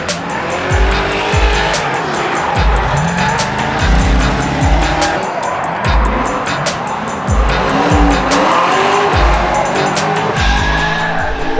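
A Charger is driven hard around the Gymkhana Grid course, tyres squealing over and over as the engine revs rise and fall, loud and close, with a brief crowd or voice murmur underneath.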